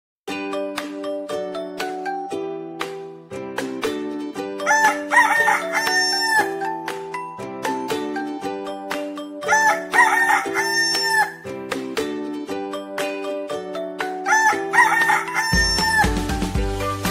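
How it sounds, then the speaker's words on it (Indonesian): A rooster crows in a children's animal sound learning piece, set against a bright melodic chiming tune, with the crowing calls repeating roughly every five seconds. "Ayam."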